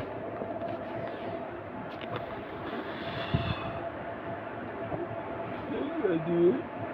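A train passes below near Lanjigarh Road junction, heard as a low continuous rumble with faint rhythmic clatter under people talking, rising slightly toward the end.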